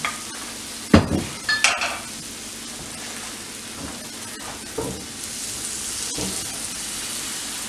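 Crepe batter cooks in a buttered pan with a continuous soft sizzle, broken by a few scraping clatters as the mixture is moved around, then settles back into a steady frying hiss.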